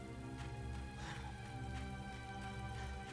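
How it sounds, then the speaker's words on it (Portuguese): Rain falling in the video game Resident Evil 2 Remake, a faint steady patter under a sustained tonal music bed. "Olha o detalhe dessa chuva caindo"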